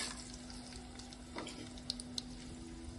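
Dried red chillies and chana dal fry in hot tempering oil for a ridge gourd chutney, giving a quiet, steady sizzle with a couple of brief sharp pops near the end.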